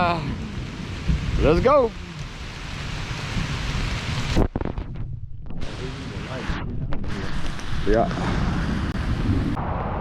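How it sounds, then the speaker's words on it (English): A thunderstorm on the Sawtooth Trail between Grindstone Gap and Rockmart campsite: steady rain hisses throughout while thunder rumbles underneath. People talk briefly over the downpour. "It's already thundering, lightning, and raining."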